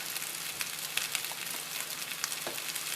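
Seasoned rice with parsley fries in a pan for a shrimp and broccoli stir fry, giving a steady, close sizzle with small crackling pops.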